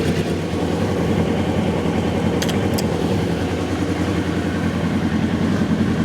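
A car engine idles steadily, a continuous low rumble held close and even throughout, with a couple of brief high clicks partway through and no talking.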